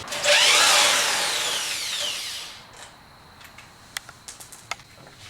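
A power drill removing fairing bolts on a 2008 Yamaha R6 whirs loudly at close range, its pitch sweeping down as it slows and stops, followed by a few light metallic clicks.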